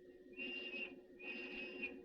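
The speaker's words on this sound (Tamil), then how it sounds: "என்னது விசில் சத்தம் கேக்குது? Police whistle." Two sustained shrill police whistle blasts, each about half a second long, sound one after another at moderate distance.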